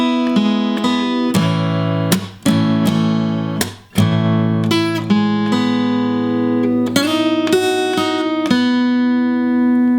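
Acoustic guitar in standard tuning plays a song, with a run of plucked and strummed notes and chords that ring out clearly and close up over about ten seconds, and no one talks.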